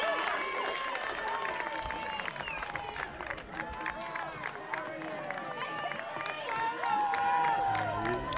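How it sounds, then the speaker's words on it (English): Stadium crowd at a women's rugby final between Canterbury and North Harbour roars steadily as the teams run back onto the field, a continuous wash of distant cheering with a commentator talking over it. "here goes the crowd getting in behind their sides"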